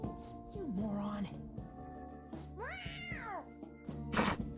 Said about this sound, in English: Somehow I think fake meowing isn't gonna get you by Morgana.